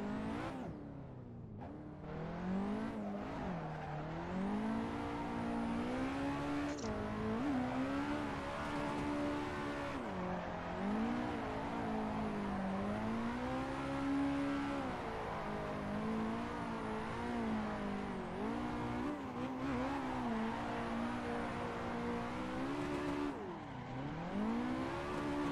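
A Nissan 180SX with an SR engine drifting in Assetto Corsa, its engine revving loud and close throughout with rising and falling pitch sweeps as the throttle is worked, plus a brief drop near the start.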